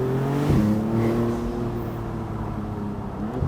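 A 2026 Maserati MCPura engine on a test drive hums with a loud, steady drone, swelling briefly early on and then holding an even, throaty tone with no talking.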